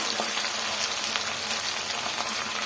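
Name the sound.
tomatoes frying in a pan for bisibele bath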